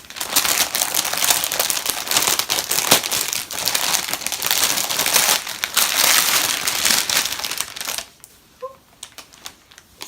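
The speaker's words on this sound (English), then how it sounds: "I'm going to do a bit of crinkling, so if it's really bad I'll cut it out" Steady, close crinkling of packaging around undyed superwash merino-nylon sock yarn goes on for about eight seconds, loud and dense, then stops abruptly, leaving near silence.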